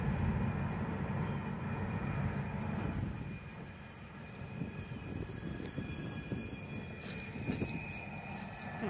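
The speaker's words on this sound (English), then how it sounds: "There's another train." Train rolling past on the Union Railroad near Turtle Creek, Pennsylvania, a sustained low rumble with steady wheel noise and a few faint squeals, moderately distant and unbroken.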